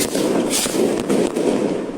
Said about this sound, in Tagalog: ang paputok po ay bagay na ginagawa, tradisyon, pamahiin para mapalayas ang mga malas, mga masasamang espiritu